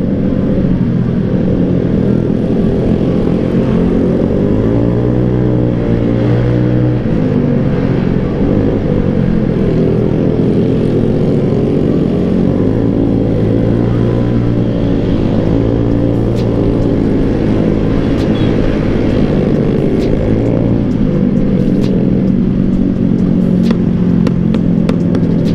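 A Honda Vario 150 scooter riding on a road in Bogor, a continuous loud engine drone with gradual rises and falls in revs and road rumble, no talking over it.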